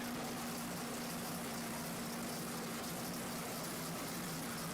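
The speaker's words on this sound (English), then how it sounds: "really cool old truck" An old Chevrolet truck's engine idles steadily in an outdoor homecoming parade, a constant low hum with a faint background wash and no talking.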